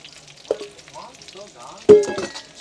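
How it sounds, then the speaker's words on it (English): Onions and peppers drop into a hot pan and hiss and crackle, broken by a couple of louder scraping stirs and clanks, with faint voices in the background. "we're gonna go in with our onion peppers here"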